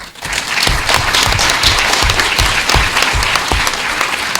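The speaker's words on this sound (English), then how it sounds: "I want to give them a round of applause." A crowd applauds colleagues at a school board of education meeting honoring tenure, steady dense clapping that fills the room at even loudness from start to finish.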